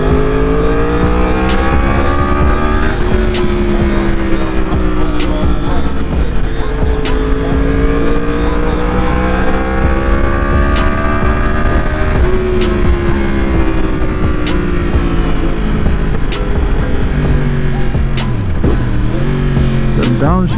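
A 2020 Yamaha R1 motorcycle with an Austin Racing GP1R exhaust revs hard through rising and falling engine pitch while riding, with sharp pops and crackles at lower RPM, loud and close throughout.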